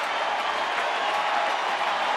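Sellout crowd of over 41,000 at a San Francisco Giants home baseball game against Arizona, a steady broad roar of cheering and noise filling the stadium, loud and continuous with no break.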